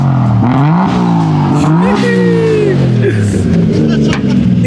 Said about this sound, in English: But this is a little project car that he has. MK3 Supra, bro. Bro, it sounds good, dude.